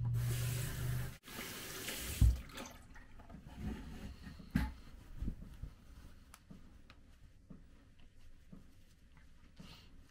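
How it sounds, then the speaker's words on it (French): Lukewarm tap water runs into a sink as a face is rinsed, a loud gush at first, then splashing and patter with drips trailing off; no one speaks. "Ça se rince très bien."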